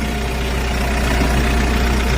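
A 2016 Doosan 3-ton forklift's G2 engine idles close by, a loud, steady low rumble with no changes in pitch.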